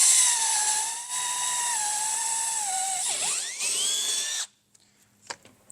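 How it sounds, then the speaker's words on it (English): A power drill with a 5/16 bit bores a hole while fitting a fender kit on a 2024 Polaris RZR XP 1000, a loud, close, high whine that dips in pitch under load before cutting off, followed by a few faint clicks. "we're going to go ahead with our 5/16 drill bit"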